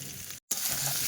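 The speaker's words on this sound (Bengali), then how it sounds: "আলুটা ওদিকে কষাই হচ্ছে" Potatoes sauté in refined oil with a continuous close hiss of frying, interrupted by a brief dropout near the middle before the sizzle resumes, with no voices.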